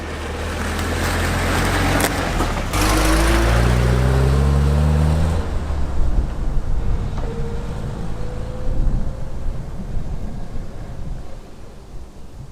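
A Land Rover Series 2 engine runs loudly up close, revving as the vehicle pulls away onto an outback track near the WA goldfields, then settles into a rougher, fainter rumble as it drives off with wind buffeting.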